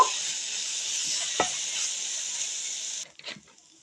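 Pizza pasta sauce sizzling steadily in a hot pan while being mixed, with a single sharp scrape near the middle; the sizzle drops away abruptly toward the end, leaving a few soft scraping stirs.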